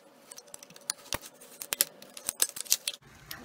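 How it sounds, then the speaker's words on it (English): Craft knife scoring and slicing soda bottle plastic along a straight edge, producing a quick series of sharp, crisp clicks and crackles close by. "I'm just going to line up my straight edge and cut it with my craft knife."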